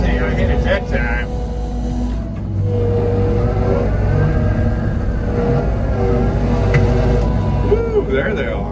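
A skid steer engine runs loud and steady throughout, its revving drone filling the whole clip near the machine while it is used to attack a yellowjacket nest outdoors.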